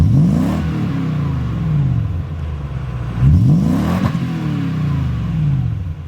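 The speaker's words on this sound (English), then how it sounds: "Did a MagnaFlow exhaust system for it. It's a catback system. It's got a nice tone" A 2001 Toyota Sequoia SUV's V8 engine with a MagnaFlow catback exhaust rumbles deeply and revs up and down twice, with a throaty exhaust tone passing by at steady loudness.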